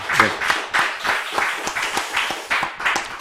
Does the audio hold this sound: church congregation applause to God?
yes